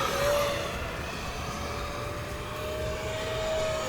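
An Arrows Hobby Marlin RC jet sweeps past outdoors under a pink evening sky, its turbine a steady whooshing roar with a thin high whine that swells slightly as it passes, heard alone without talk.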